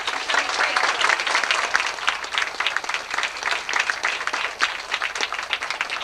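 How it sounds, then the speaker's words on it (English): A talent show crowd claps steadily for several seconds, a bright, even wash of hands with a few louder individual claps standing out. "Let's give her a hand of applause."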